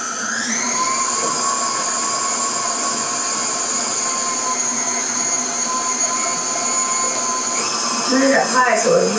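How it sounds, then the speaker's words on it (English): An electric mixer whirs steadily at high speed while blending pumpkin puree with butter and sugar, close and loud, with a voice speaking briefly near the end. "Now we're mixing our puree, our pumpkin puree."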